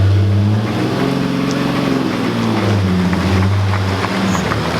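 A Porsche 718 sports car engine, shown at the Concorso d'Eleganza Villa d'Este 2018, drones loud and steady at low pitch for the whole stretch, rising slightly as it moves past with no one talking.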